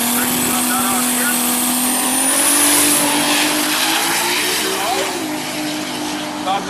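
A sports car launches down a quarter-mile drag strip in Grenada, its loud close engine roaring steadily with a tone that climbs and dips through the run.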